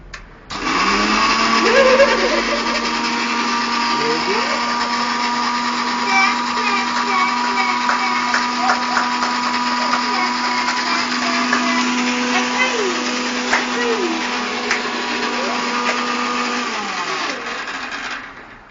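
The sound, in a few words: mixer grinder running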